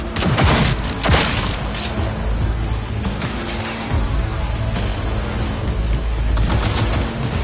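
Sustained, chaotic gunfire from a shootout in the video game Cyberpunk 2077, with loud dense volleys, booms and crashing impacts going on without a break.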